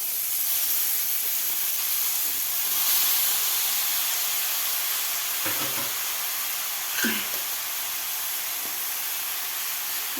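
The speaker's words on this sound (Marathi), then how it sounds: "तर यामध्ये आपल्याला आता ह्या गाजराचा किस घालून घ्यायचा आहे." Grated carrot sizzles in ghee in a pan for carrot halwa, a steady loud hiss with a couple of brief stirring clatters partway through.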